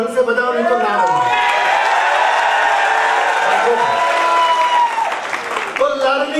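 An audience in a training hall claps along, loud steady applause with some cheering and whoops running under a voice that talks throughout.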